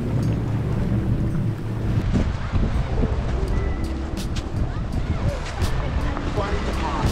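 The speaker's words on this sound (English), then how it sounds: "It's very windy, very cool," Strong wind sweeping a Dubai beach by the ocean and rocks near sunset during a sandstorm, a loud, continuous roaring buffet with a deep rumble that never lets up.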